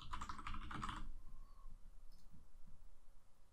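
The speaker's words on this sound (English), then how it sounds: "Type in your email address." A computer keyboard clatters in a quick close burst as an email address is typed in, then falls quiet apart from faint background noise.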